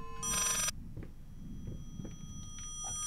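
A telephone rings once in the horror game Layers of Fear, a short bright electronic trill that cuts off abruptly, followed by quiet low ambient rumble and faint scattered knocks.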